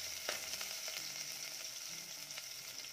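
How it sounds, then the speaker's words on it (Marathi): Onion frying in a pan for a Malvani-style white pea curry, a soft steady sizzle with a few light clicks of stirring, fairly quiet and free of speech. "कांदा देखील छान परतून घेऊयात."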